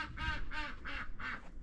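A duck on a Montana homestead quacks four times in an even rhythm, close by, over a low background rumble and with no talking.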